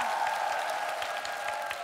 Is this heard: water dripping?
no